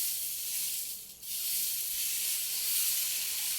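Dosa batter hits a hot new dosa stone with a loud, steady broadband sizzle that briefly dips near the start, then hisses on evenly throughout.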